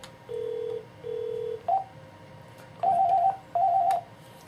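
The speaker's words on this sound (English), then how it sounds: "and then I'll dial 101" Telephone keypad tones on a Panasonic phone: a series of short, evenly spaced beeps as 101 is dialed during a conference call, clear and close with quiet gaps between.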